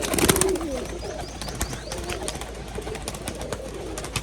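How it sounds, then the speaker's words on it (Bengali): Rajshahi pigeons coo in low, soft murmurs close by at a pigeon farm, with some rustling and fluttering and a louder burst at the start. "বালি পায়রা দেখুন বাজি দেখুন"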